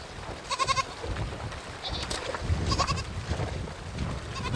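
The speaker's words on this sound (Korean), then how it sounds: "겁에 질린 새끼 염소 한 마리가 남았습니다" A frightened baby goat left behind at a river crossing bleats several times in short wavering calls, close and loud, over rushing water.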